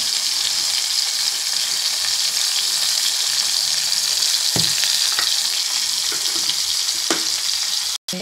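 Tomatoes cooking with a little salt in a pan give a loud, steady sizzle with a few soft stirring knocks near the end.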